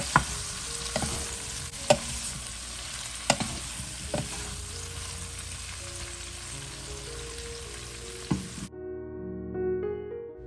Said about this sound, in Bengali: মিডিয়াম হিটে 4-5 মিনিটের জন্য কামরাঙাগুলোকে ফ্রাই করে নিচ্ছি।